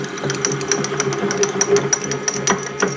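A wood lathe runs while turning a pen blank, giving a steady motor hum with rapid, regular tapping and rattling clicks from the cut, moderately close and continuous.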